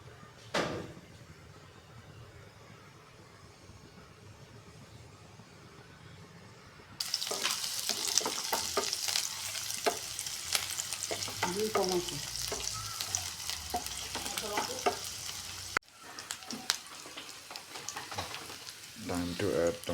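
Mustard oil in a hot pan starts with a faint, quiet hiss, then bursts into loud crackling sizzle with stirring and clatter. A brief break is followed by renewed frying noise.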